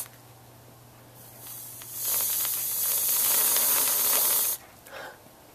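Whipped cream spraying from an aerosol can, a loud pressurised hiss lasting about two and a half seconds after a quieter lead-in, then a brief short puff near the end.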